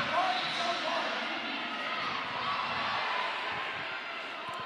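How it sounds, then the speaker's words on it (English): A loud crowd roars and cheers continuously at a roller derby match between Argentina and Australia, while a commentator talks over the noise. "the crowd making a huge noise"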